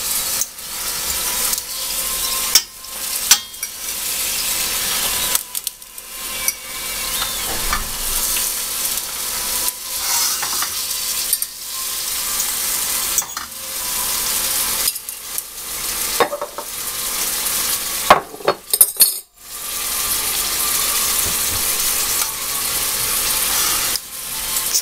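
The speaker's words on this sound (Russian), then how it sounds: "С одной стороны поджарили, теперь с другой жарим до готовности." Meat-filled chebureki pastries sizzle and crackle steadily in a hot frying pan, with occasional scraping and clattering sounds from turning.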